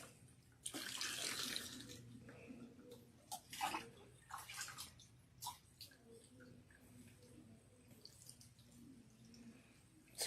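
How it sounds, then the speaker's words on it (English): Water rinsing shampoo out of hair, splashing in irregular bursts and trickles, fairly close and soft, with quiet gaps between pours. "once you shampoo, you rinse nicely. You rinse thoroughly."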